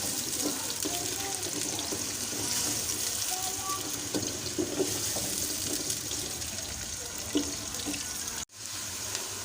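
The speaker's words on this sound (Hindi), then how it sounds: "इसको हम इस तरह से मिक्स कर लेंगे और प्याज़ों को 2 से 3 मिनट तक हम लाइट ब्राउन कर लेंगे" Onions frying in a pan until light brown for a spicy kaleji dish, a steady broad sizzle with occasional stirring clinks and scrapes, fairly close, ending with a sudden cut.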